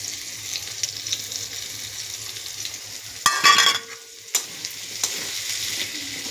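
Frying potatoes and soybean with onion, ginger and garlic crackle in a pan as ground chilli, coriander, cumin and turmeric are stirred in; close scraping and clatter over a steady sizzle, with a brief louder burst midway.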